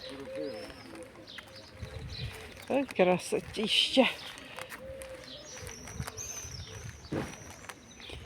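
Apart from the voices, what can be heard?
pigeons cooing in fir trees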